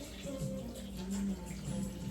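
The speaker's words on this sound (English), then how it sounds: "just straight out the faucet" Water runs steadily from a tap, a continuous close splashing rush without pauses.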